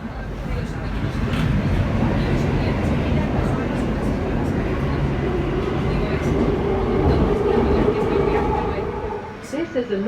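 A London Underground Northern Line train rumbles and clatters loudly throughout from inside a carriage, a dense, steady roar with faint talk beneath and a brief easing near the end.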